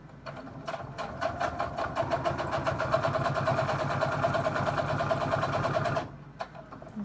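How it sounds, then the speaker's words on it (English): A sewing machine top-stitches and bastes a cork leather sunglasses sleeve in one steady, close, rapid run of needle strokes lasting about five seconds, then stops abruptly. "now I'm just going to do, I guess, like a top stitch, but I'm basting the whole thing together"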